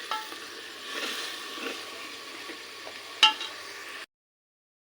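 Moong dal masala roasting in a pan, with a soft sizzle and light stirring scrapes, then one sharper clink before the sound cuts off abruptly.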